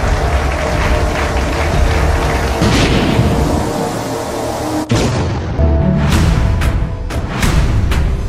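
Bomb blasts in a Telugu action short film, loud booming explosions with a sharp crack partway through followed by several bursting pops and rumbling debris, dense and close throughout.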